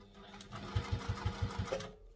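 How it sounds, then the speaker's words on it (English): A sewing machine stitches fabric for a sling bag in a few slow, evenly spaced thumping needle strokes, close and fairly quiet, with a voice talking over it. "you're only sewing to the dot"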